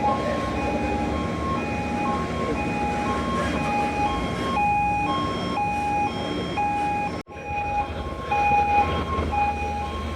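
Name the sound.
RTG container crane crossing in a port yard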